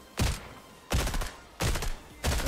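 Gunfire in a Fortnite match, four sharp bursts of rapid shots spaced about two-thirds of a second apart, loud and close with brief quiet gaps between.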